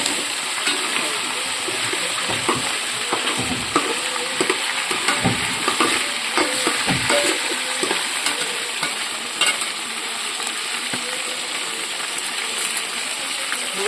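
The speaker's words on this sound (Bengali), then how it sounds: "এবার আমি এর মধ্যে আলু ভাজবো, টমেটো," Potatoes, tomatoes and onions frying with meat in a pan at an outdoor picnic, a steady loud sizzle with scattered stirring clatters and clinks; a voice talks faintly in the background.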